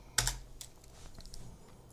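A few quick keystrokes on a computer keyboard, close and fairly quiet, a sharp first tap followed by lighter clicks in a short burst.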